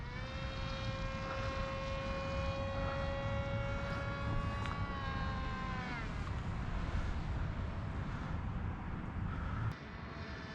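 A Bixler model airplane fitted with a PixHawk autopilot flies overhead above a field, its electric propeller giving a steady, loud whine whose pitch slides gradually lower as it passes and turns, holding for the whole stretch with no talking.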